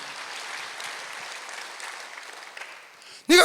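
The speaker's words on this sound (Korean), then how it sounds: "박수 하세요." A congregation at a Sunday church service claps in a soft, even wash of applause that fades before a loud voice abruptly cuts in at the end.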